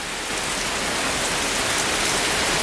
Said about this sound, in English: It is definitely raining.